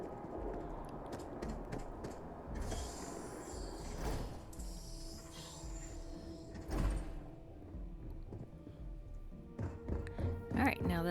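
A sliding door opens in the space game Starfield with a swelling mechanical whoosh and thunk, heard amid steady game ambience and background chatter.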